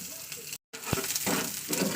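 Chopped onion frying in oil for an amudi fish chorchori, a close, low hiss of sizzling with a brief dropout and a small clatter midway, fairly quiet throughout.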